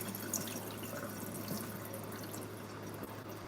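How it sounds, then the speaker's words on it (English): Cloudy water from rinsing rice is poured off, making a steady close trickle and splash with dripping throughout, no voices present. "the rice, the water is really cloudy. So we're gonna pour that off."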